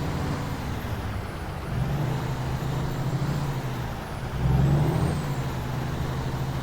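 International LT truck with a chip van trailer in American Truck Simulator, a steady low diesel drone rising in two swells, with hissing air-brake releases underneath the rumble.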